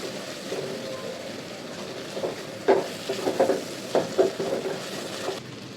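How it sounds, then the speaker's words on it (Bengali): Spice masala for buffalo meat curry sizzles in a pan while a utensil stirs and scrapes it, with a steady frying hiss and several louder clattering strokes. "মশলাটাকে সুন্দর মতো কষায় নিতে হবে"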